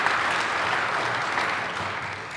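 Audience clapping at a town select board meeting, a steady dense patter that fills the room without pause for a couple of seconds.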